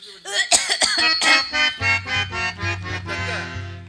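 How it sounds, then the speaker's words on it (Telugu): Someone coughs on stage during a Telugu drama performance: a cluster of quick coughs, followed by strained, voiced throat sounds that drag on close and fairly loud. "నిన్ను చూద్దామని వచ్చాడు అలా దగ్గుతున్నావు"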